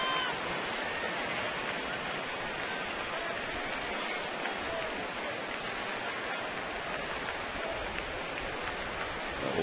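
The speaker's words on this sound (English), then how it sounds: "some rain starts to fall now" Rain starting to fall at a baseball game, a steady broadband patter of drops on surfaces that holds evenly throughout with no clear talk over it.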